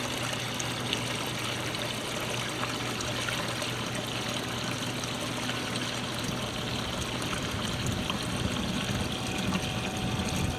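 Water trickles and rushes steadily as a pool pump fills up, a continuous faint wash with a low hum underneath, unbroken for the whole stretch and without any voices.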